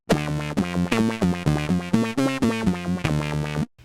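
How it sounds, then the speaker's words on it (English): A guitar plays a quick run of notes through a thick, metallic ring modulator effect with a deep lower octave, the notes choppy and rhythmic before stopping abruptly. "I'm getting sort of like an octave under effect using a ring modulator"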